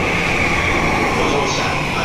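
A train pulls into a station platform in Japan, a steady, loud rolling rumble of rail cars that fills the whole moment, with faint voices in the background.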